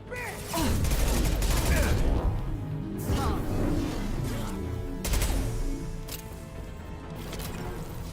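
High-impact gunshots fired in the video game Mass Effect 2, with repeated loud bursts and crashes around two and five seconds, over busy game music and effects.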